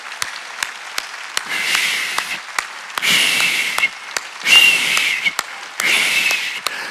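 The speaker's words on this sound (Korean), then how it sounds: "박수 세게 치라고." A church congregation at an Easter Sunday service breaks into bursts of loud applause, dense clapping swelling in waves between sharper isolated claps, with no speech over it.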